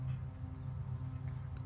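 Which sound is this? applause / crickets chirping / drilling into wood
crickets chirping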